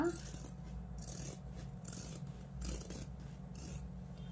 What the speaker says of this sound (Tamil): இப்போ கட் பண்ணி காட்டுறேன்